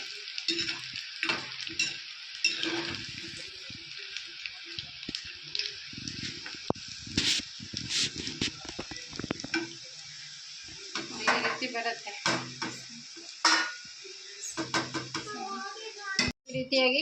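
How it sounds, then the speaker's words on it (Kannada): Kodubale dough rings deep-frying in hot oil give a steady, crisp sizzle with bubbling crackle that swells and dips, and occasional clinks of a spoon or utensil stirring the pan. "ಕ್ರಿಸ್ಪಿಯಾಗಿ ನಾವು ಕರಿಬೇಕಾಗತ್ತೆ ಪೂರ್ತಿಯಾಗಿ ಎಲ್ಲವನ್ನು"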